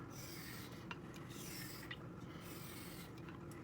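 A Puma 91 straight razor edge is honed with firm pressure on one area, giving a soft, continuous scraping rasp with faint strokes, quiet and close, without any voices.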